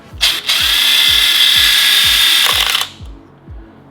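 A power tool with a socket fitted whirs loudly for about two and a half seconds while working loose a bolt on a supercharged Mini Cooper S, then stops, leaving low rhythmic thumps beneath.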